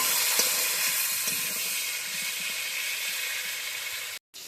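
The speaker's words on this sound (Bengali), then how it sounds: "এবার নুনটা দিয়ে আমি আস্তে করে ভাজা ভাজা করে নিই আলুটা" Potatoes fry gently in a pan with salt, giving a soft, even sizzle and hiss at low volume, cut off by a brief silence just before the end.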